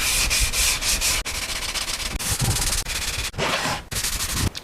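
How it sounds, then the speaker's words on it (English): Rhythmic scratchy rasping of hand sanding a wooden picture frame with the grain, in steady back-and-forth strokes with brief pauses between runs, close and fairly loud. "So I'm going to sand with the grain."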